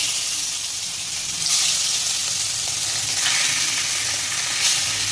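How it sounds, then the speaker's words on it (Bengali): Loud, steady sizzling and crackling of fish seasoned with turmeric and salt frying in hot oil in a wok, with a few bursts of stronger hissing. "কড়াইতে মাছটা দিয়ে দিলাম"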